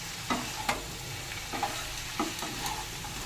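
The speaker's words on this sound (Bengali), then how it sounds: "এবার সবজির সাথে মাছটাকে দিয়েও একটুখানি নেড়ে চেড়ে নেব।" Fried kajoli fish is stirred with vegetables in a gently sizzling pan, with a spatula scraping and clinking at irregular intervals over the steady frying hiss, heard close with no speech.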